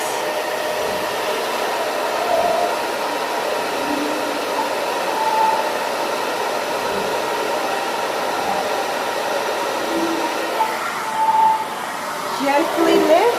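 A hair dryer fitted with a diffuser runs steadily while drying curly hair, a continuous close whir with small shifts as it is moved, and a voice speaks briefly near the end.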